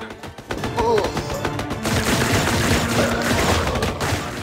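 Machine gun fire in the video game Minigore 2: Zombies, a dense, continuous burst of rapid shots with crashing impacts filling the clip.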